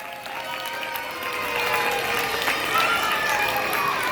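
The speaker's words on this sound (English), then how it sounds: "Kids, let's give a round of applause for Santa." An audience at a shopping mall claps for Santa, a dense, steady round of applause that grows slightly louder partway through, with a few faint voices and cheers mixed into the crowd noise.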